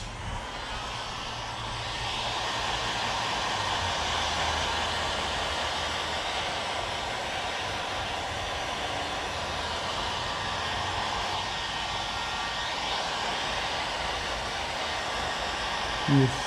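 A heat gun on a low setting blows steadily while shrinking tint film on a windshield, a constant close, breathy roar that holds level throughout, with no talk over it.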